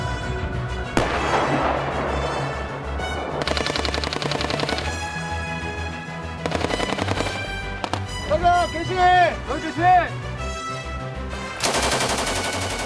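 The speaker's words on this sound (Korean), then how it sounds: "천지를 뒤흔드는 포석" An M48 tank's 90mm rifled gun fires on a military firing drill at moving targets, a few heavy booming blasts rising over loud music and narration.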